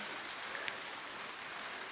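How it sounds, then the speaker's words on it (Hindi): Steady monsoon rain falls outdoors, a soft, continuous hiss with scattered drips, faint and even throughout with no voices. "आपण माने देखी पारुथिबे केनता वर्षा होची"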